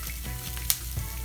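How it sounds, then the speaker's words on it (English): Spices, black pepper, salt and garlic dry frying in a hot pan give a steady close sizzle with a couple of sharp crackles and a stir scraping through. "So the spices and the garlic have been dry frying for maybe 2 minutes now"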